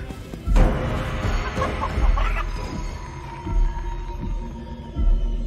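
A giant chicken clucks in the horror video game Chicken Feet, with repeated low throbbing thuds and a bright clucking burst over a droning, ominous soundtrack, loud and close with no talking.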